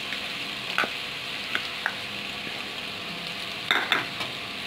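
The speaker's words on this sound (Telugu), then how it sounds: "వీటిని ఒక 2 మినిట్స్ ఫ్రై చేసుకున్నాము." Green chilies and coriander powder fry in a pressure cooker with a soft, steady sizzle, broken by a few sharp scraping stirs, close by with no talking.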